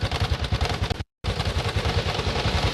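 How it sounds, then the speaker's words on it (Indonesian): A Honda Supra X 125 motorcycle engine runs roughly in a workshop, a loud close-up uneven chugging clatter with rapid pulsing beats, broken by a brief dropout of silence before resuming. "Ini motor 125 dia bunyi kasar di bagian"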